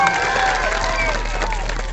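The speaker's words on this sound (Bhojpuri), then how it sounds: "एगो ताली बजाओ जोरदार हमारे भैया के" At a Bhojpuri stage show, a crowd applauds loudly with a dense, sustained wash of clapping and some cheering, while voices and tonal sounds ride over it.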